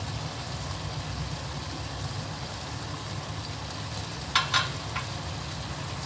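Chopped Lotte (Bombay duck) sea fish with salt, turmeric and chilli powder sizzles steadily in a frying pan, with a couple of brief utensil scrapes as it is stirred near the end.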